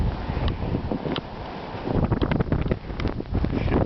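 Strong wind gusting outdoors after a Christmas snow blizzard, loud rough buffeting against the microphone that rises and falls in continuous waves.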